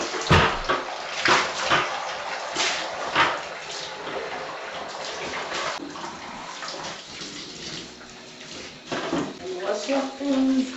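Water splashes and runs continuously while a bathtub is scrubbed and rinsed clean, with occasional hard clunks and swishes close by.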